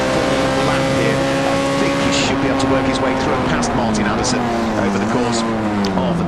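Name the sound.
touring race cars racing at Donington Park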